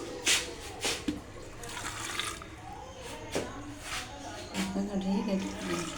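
Water splashes and trickles into a pan of onions in short bursts while cooking dal mash, with a voice talking over the pouring.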